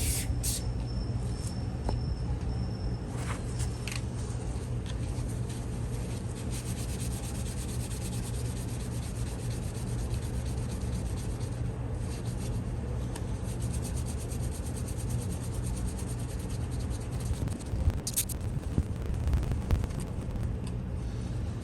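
Foaming glass cleaner is rubbed by hand onto the casing of a Schauer Model B4612 battery charger, producing a steady, close rubbing and wiping sound that runs continuously over a low background hum, with no speech.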